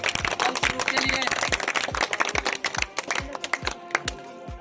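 Loud, dense applause from a studio audience cheering a girls' group on a quiz show, sharp claps packed together, then thinning toward the end.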